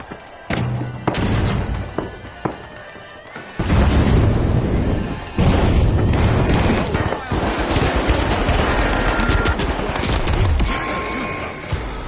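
A frag grenade launched in the video game The Finals, with loud overlapping booms and crashes that swell around four seconds in and stay heavy under sustained gunfire and clatter, while a voice talks.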